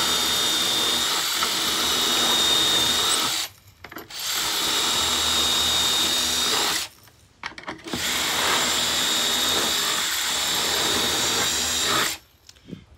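Power drill spinning a 4.5 mm bit through a Kreg handle positioning jig, three sustained whirring bursts separated by short pauses, close and loud with no talking.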